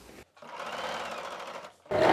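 A sewing machine runs in a steady burst, stitching the final seam at the end of a blouse side joint, stopping briefly before starting again loudly at the close; no one speaks.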